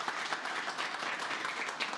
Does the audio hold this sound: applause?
yes